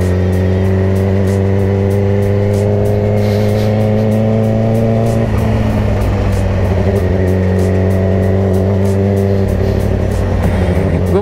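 A Yamaha R6 motorcycle engine revs hard and steadily, its loud, sustained high-pitched drone holding across the clip with brief dips and surges in pitch near the middle and the end, alone with no talk.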